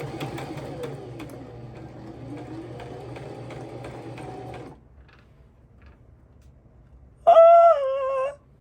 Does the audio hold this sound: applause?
no